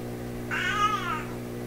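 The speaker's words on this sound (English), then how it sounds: "I have a cat that's just showing up" A cat gives a single drawn-out meow close by, rising and falling over about half a second above a steady electrical hum from a console stereo.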